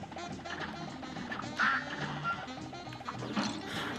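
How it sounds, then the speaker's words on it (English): Ducks in the Cuphead video game, with quacks and crashing hits from shooting amid busy, dense game music and effects, no talking. "I'm trying to shoot these ducks, like, beforehand."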